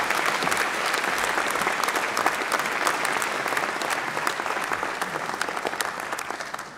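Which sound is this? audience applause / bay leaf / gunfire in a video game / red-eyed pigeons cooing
audience applause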